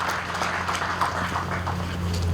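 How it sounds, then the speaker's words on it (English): A round of applause for the commanding flag officer at a Nigerian Navy barracks commissioning ceremony in Makurdi: a steady wash of many hands clapping, heard over a constant low electrical hum from the sound system. "Give the flag officer commanding another resounding round of applause while he takes his seat"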